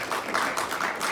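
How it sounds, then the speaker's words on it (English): Brief round of applause from a university townhall audience, steady many-handed clapping at moderate distance, alone without talk. "So I think he deserves a round of applause for that."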